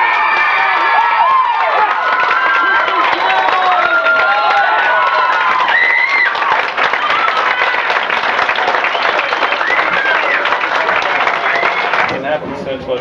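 A large awards-show crowd cheers, whoops and applauds loudly and continuously for a winner for about twelve seconds before it tapers off, with shouting voices mixed into the roar.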